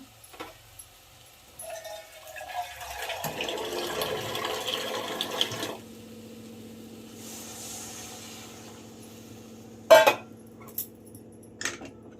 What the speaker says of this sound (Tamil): இப்போ வந்துட்டு தண்ணி வந்து ஊற்றிக்கலாம்